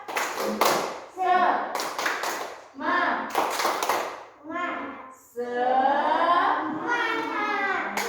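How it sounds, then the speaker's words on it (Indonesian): Children in a classroom do a rhythmic spirit clap, bursts of sharp hand claps alternating with chanted voices in a patterned call-and-clap sequence. "mari kita tepuk semangat dulu"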